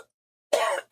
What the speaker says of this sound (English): I stirred up all the dust or something, and I am coughing